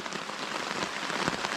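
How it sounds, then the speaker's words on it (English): Steady rain patters on a tent or tarp at a riverside kayak campsite, a close, dense hiss of drops with no talking. "this rain will pass"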